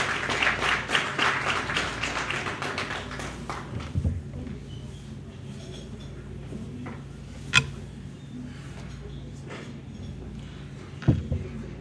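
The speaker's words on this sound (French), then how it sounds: "sous votre applaudissement, s'il vous plaît" Audience applause for a minister of commerce at a national private-sector forum, a burst of many hands clapping that fades within a few seconds into a quiet room with scattered taps and knocks.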